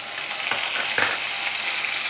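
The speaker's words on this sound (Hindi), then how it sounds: "अच्छे से हम 2 से 3 मिनट प्याज को भूनेंगे।" Two medium onions, ground to a paste, fry in a pan with whole spices for a mutton liver dish. They give a loud, steady, crackling sizzle with faint stirring scrapes and no voices.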